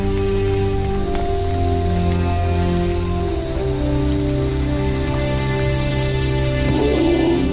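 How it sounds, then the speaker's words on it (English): Steady rain patters across surfaces, a constant wash of drops with a soft droning tone underneath, no voices. "Playing in the rain"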